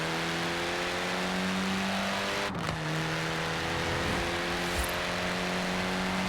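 Car driving in Forza Horizon: a steady, droning engine tone holds throughout, with a brief dip and one short burst of noise midway, loud and continuous without talk.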